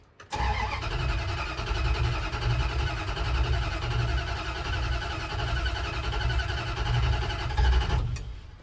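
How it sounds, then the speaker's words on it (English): A 1977 Dodge D200 truck with a carbureted engine cranks over steadily, the starter churning in a close, loud, continuous rhythm for about eight seconds before it abruptly stops. "Gonna have to crank it for a little bit just to get some fuel up into the carb"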